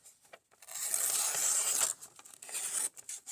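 A Spyderco Tenacious folding knife slices through material in a couple of crisp, rasping bursts, close up and with no voices over it.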